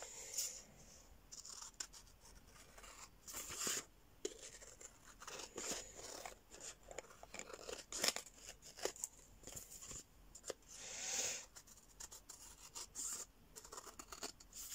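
Scissors snip around a paper craft piece in short, quiet, irregular cuts and rustles, close and faint.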